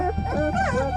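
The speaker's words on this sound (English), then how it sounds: "Come on, puppies." Two-week-old puppies in a litter whimper and yip in thin, wavering cries that rise and fall, close by and steady across a brief moment.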